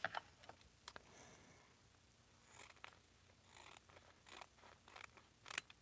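Scissors snip through a sheet of plastic for a junk journal craft project, making quiet, crisp cuts that come in a close, irregular run and grow denser toward the end.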